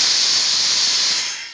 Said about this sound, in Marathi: आपल्या कुकरची शिट्टी झालेली आहे.